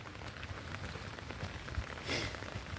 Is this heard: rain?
yes